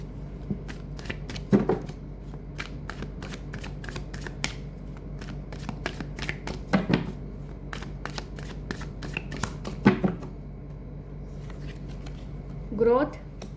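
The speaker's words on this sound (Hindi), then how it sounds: "मैं कार्ड्स सीधे कर दूं" Tarot cards are shuffled and tapped straight by hand in several quick, riffling bursts between pauses, with a person speaking softly over them.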